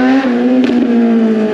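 A Suzuki GSX 750 motorcycle with only an exhaust pipe fitted, shifting gears without the clutch. It gives a loud, close, high-revving engine drone, broken by brief dips as the gear changes.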